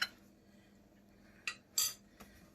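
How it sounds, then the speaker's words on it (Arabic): A metal utensil clinks and scrapes against a bowl while spices are mixed into chicken pieces for chicken fingers, a few separate sharp knocks in a quiet room. "والآن سوف نخلط المكونات."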